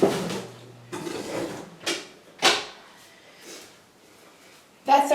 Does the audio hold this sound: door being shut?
yes